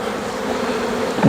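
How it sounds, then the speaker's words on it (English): A dense, buzzing hum of many honeybees flying close by during a hive inspection, steady and loud, with a brief thump at the very end. "you hear those bees flying"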